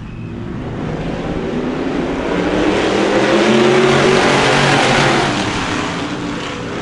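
Sportsman race cars at a short oval track surge off the green flag start, a dense roar of several engines swelling as they accelerate toward the first turn, loud and sustained.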